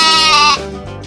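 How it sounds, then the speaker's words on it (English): A goat gives one loud, close, wavering bleat lasting about half a second, then it fades into a quieter tail. "goat,"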